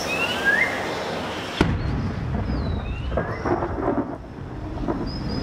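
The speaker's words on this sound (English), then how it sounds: "In December, storm clouds gather, heralding the start of the heavy rains." Thunder rolls and crashes over a tropical Amazon rainforest storm, a sharp crack then a long deep rumble with steady rain and wind noise throughout.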